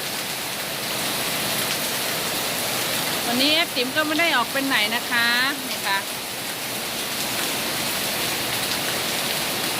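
Heavy rain from Storm Noru pours steadily in a continuous dense wash, while someone speaks briefly over it in the middle.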